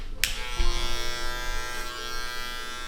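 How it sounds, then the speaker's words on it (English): An electric hair clipper fitted with a number 3 guard buzzes steadily and close up while cutting short hair at the back of the head during a high skin fade. "we're also gonna come back up and with the clipper and make sure this is nice and short in here in the back"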